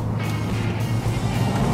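A 2016 BMW i3 electric compact car accelerating, heard from inside as a steady low road and motor hum with a faint high whine, continuous and fairly loud, with no talking.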